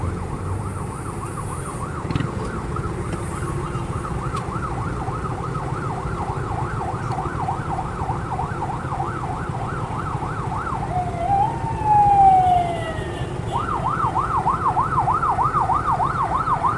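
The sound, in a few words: emergency vehicle siren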